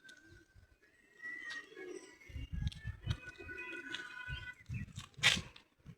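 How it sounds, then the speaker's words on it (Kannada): Pigeons coo at Suvarnavathi Dam, their soft low rolling calls repeating in bursts at moderate distance, with a few sharper chirps and a brief rustle among them. "ಬರ್ಡ್ಸ್ ಎಲ್ಲ ಇದ್ದಾವೆ, ಅಲ್ಲಿ ಪಾರಿವಾಳ ಎಲ್ಲ ಇದ್ದಾವೆ."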